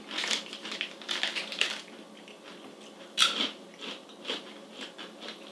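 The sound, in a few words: chewing crunchy crispy mozzarella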